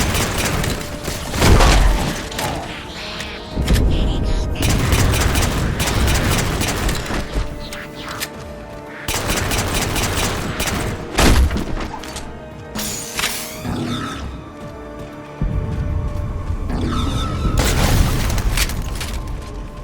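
A missile strikes a Covenant cruiser in the video game Halo 4. Heavy booming explosions and crashing blasts arrive in loud, rolling waves, separated by short drops, with no voices.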